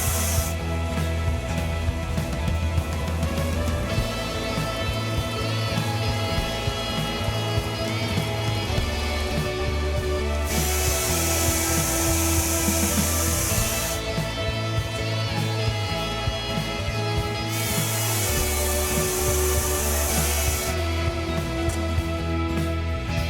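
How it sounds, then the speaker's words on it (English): A drum sander works over small pieces of very dry exotic wood, giving a steady, continuous rubbing rasp with periodic bright hissy bursts as each piece passes through, close and alone. "I'm going to run these through my drum sander a couple of times"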